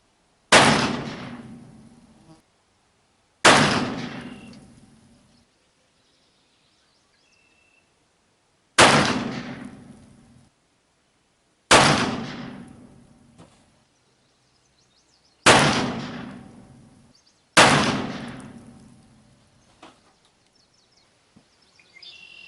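Six loud, sharp gunshots from an 1860 Pietta black powder revolver fire a few seconds apart, each a sudden crack with a long fading echo followed by near silence.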